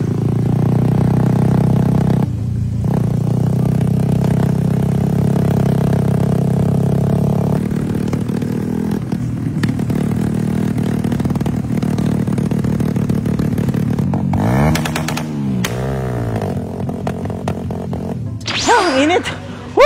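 Raider 150 Fi motorcycle engine revving with loud popping backfires, a sustained rough idle and throttle blips near the microphone, with rising and falling revs and sharp pops toward the end.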